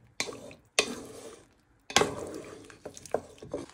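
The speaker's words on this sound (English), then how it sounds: "you want to just get all the way around the pan and any little bits off the bottom of the pan will give flavour to the broth" A utensil scrapes and stirs across the bottom of a pan of broth with vegetables for Thai meatballs with noodles, in a few distinct bursts of scraping with gentle sizzling between them.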